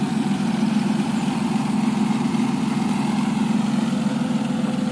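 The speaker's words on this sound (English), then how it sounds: "So I've just left her running. You can hear how the engine sounds at the front." A 2002 TVR T350C's engine idles steadily, heard from the front of the car: a smooth, continuous low rumble at constant level with no talk over it.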